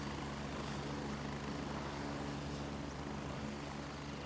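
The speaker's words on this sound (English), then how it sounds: "These helicopters are so goddamn loud." Helicopters sit at a base in Gray Zone Warfare, their rotors and engines making a loud, constant whirring roar that fills the space with no talk.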